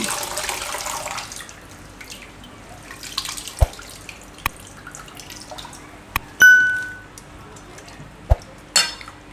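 Washed tanjariya leafy greens being drained of water in a kitchen; a soft trickle at the start gives way to scattered drips, sharp metallic clinks and dings of a vessel, and a couple of louder clanks, all near.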